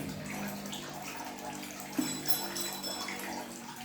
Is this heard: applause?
no